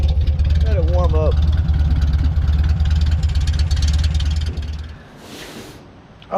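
1957 VW Beetle air-cooled engine idling while warming up, a steady close low putter for about five seconds before it fades away, with a brief whistle-like squeal early on.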